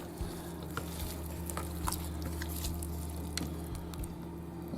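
Canned salmon and other fish are broken up in a bowl, making soft wet squishing and scraping sounds in irregular bursts over a steady low hum, close by with no talking.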